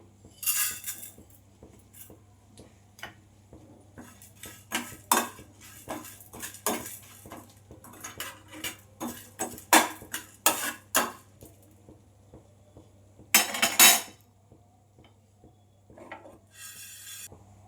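Metal utensil clinks and scrapes against a wok while roasted spices are heated, a hum running underneath and a burst of sizzle-like hiss partway through, no talking.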